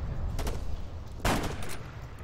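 Sniper rifle shots in Arma 3, one faint crack near the start and a single louder sharp report around the middle, each with a short tail over steady low background rumble.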